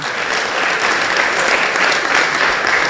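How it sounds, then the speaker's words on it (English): Loud, dense applause from a university public lecture audience, steady sustained clapping filling the room throughout with no break. "Oh, I think a better round of applause will do."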